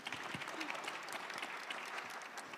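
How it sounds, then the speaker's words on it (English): Audience at an AI action summit conference applauding, a dense steady wash of clapping from a crowd heard at a moderate distance throughout. "Yes, we can applaud that as well."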